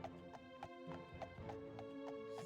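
A horse runs in the video game The Elder Scrolls II: Daggerfall, its hooves giving a quick, regular clip-clop of faint beats over a steady droning game background.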